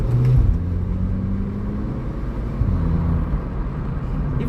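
A 2016 VW Polo 6C GTI with its 1.8 TSI turbo engine and DSG gearbox drones steadily from inside the cabin while driving, a low continuous hum with a brief swell near the start and mild rises along the way.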